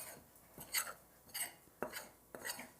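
A whisk clinks against the sides of a bowl, stirring regular white flour with baking powder; short bright metallic scrapes and taps in an uneven rhythm of about five strokes, close but fairly quiet.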